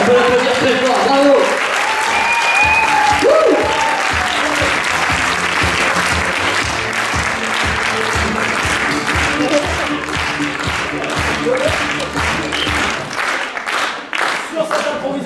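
Loud, sustained audience applause fills an improv theatre match at a French festival, dense clapping continuing throughout with crowd noise and a few voices mixed in.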